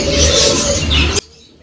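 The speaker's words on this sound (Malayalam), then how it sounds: "എന്തൊരു ശബ്ദമാണ്, കിളികളുടെയും അതുപോലെ തന്നെ കോഴികളുടെയും." Birds and chickens fill a market hall at Souq Waqif in Qatar with a loud, dense chorus of chirps, coos and calls. The sound cuts off abruptly near the end.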